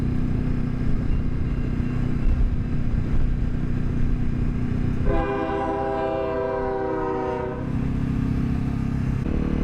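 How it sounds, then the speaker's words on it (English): A train rumbles steadily nearby, and a loud sustained horn blares for a few seconds in the middle as it passes, with no speech. "It's a train."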